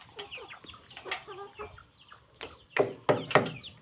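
Chickens cluck and peck close by while eating rice in the morning, soft scattered calls and short bursts, with a few louder clucks toward the end and faint rustling.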